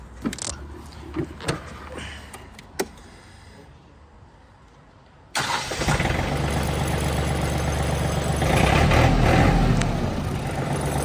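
A few clicks and knocks, then the small engine of a 2015 Yanmar EG 223 mini tractor suddenly catches and runs on, loud and close, its steady chug building slightly.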